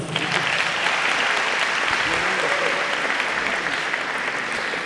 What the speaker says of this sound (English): Can we really give a round of applause?